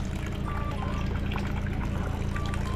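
Pumped water gushing nonstop and overflowing outdoors in Zamboanga, a steady loud rushing pour that stays constant throughout, close and unbroken, with faint voices mixed in.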